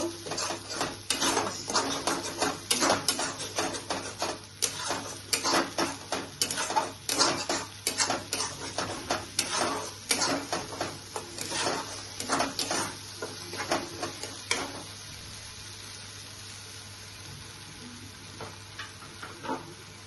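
Spice paste for an Afghani egg malai curry sizzles and fries in a pan while a spoon repeatedly scrapes and clanks against the metal, giving a busy rhythmic stirring that fades to a softer sizzle near the end.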